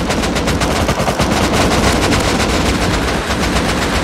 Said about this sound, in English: Shot the left guy.